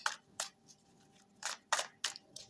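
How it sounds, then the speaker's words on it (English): Tarot cards are shuffled in short crisp bursts, about seven quick riffling snaps with brief pauses between them, close and fairly quiet. "I'm just going to shuffle the cards."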